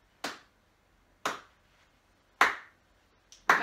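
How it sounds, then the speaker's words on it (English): Slow hand claps from a teacher leading a PE activity for young children, four separate sharp claps spaced about a second apart, close and clear against near silence. "So if I'm clapping slowly,"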